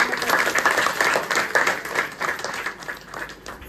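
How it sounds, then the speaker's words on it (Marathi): Applause from women gathered at a haldi-kumkum event at a village Zilla Parishad school, a dense steady patter of many hands clapping close by that gradually tapers off over several seconds. "म्हणून तुमच्यासाठी एकदा जोरदार टाळ्या"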